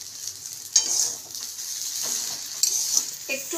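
Potatoes and peanuts sizzling in hot oil for chowmein, a steady bright frying hiss with a few sharper crackles and utensil scrapes, close and moderately loud, no talking.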